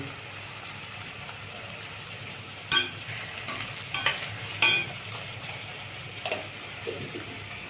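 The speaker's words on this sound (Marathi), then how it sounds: "आता आपला कांदा छान परतून झाला आहे." Chopped onion sautéing and being stirred in a pan, a soft continuous sizzle with occasional scraping clinks of the spatula, heard alone without talk.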